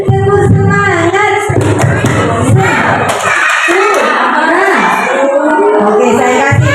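A group of children at an Indonesian primary-school parenting event chants loudly in unison while clapping in a rhythmic pattern, with voices and claps overlapping in a busy, close crowd.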